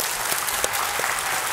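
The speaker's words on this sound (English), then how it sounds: "Give me a round of applause for Bob." At a tech demo event, a crowd claps in a full, sustained burst of applause, loud and even with a few sharper individual claps standing out.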